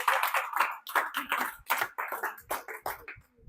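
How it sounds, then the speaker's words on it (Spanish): Congregation in a church service clapping loudly in a steady, fast rhythm of hand claps, close and sustained, with no talk over it. "Dele un aplauso al Señor."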